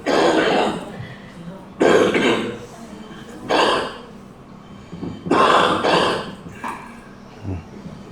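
A smoker's harsh, hacking coughs come in separate bursts, about five spread across the stretch, each loud and close with short pauses between.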